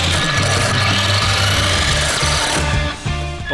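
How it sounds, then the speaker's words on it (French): Remote-control car fitted with saw blades in place of wheels cutting through a wooden plank, a loud harsh continuous rasping grind with rapid repeated strokes, briefly dipping near the end, no voices. "La planche est presque sciée."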